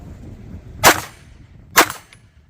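Two sharp pistol shots from a CZ P10 F firing brass ammunition at distant targets outdoors, spaced about a second apart, loud and close with brief decay.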